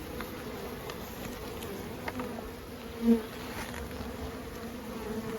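Honeybees hum in a continuous low drone inside a hive, a busy swarm close by, with one slightly louder buzz passing briefly.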